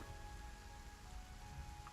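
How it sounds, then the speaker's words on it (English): Rain falling in the video game Hytale, a quiet, continuous hiss of drops pattering evenly with a faint tonal hum beneath and no talking. "My gosh, it's very rainy today."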